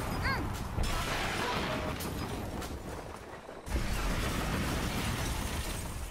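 Explosions in the video game Shantae: Half-Genie Hero, a dense, continuous stream of loud crashing blasts and shattering bursts with a brief dip partway through.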